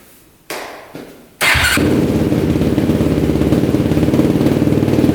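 A Yamaha YFZ 450 race quad cranks briefly, fires up loudly and settles into a steady, close, rapid-pulsing idle that continues to the end.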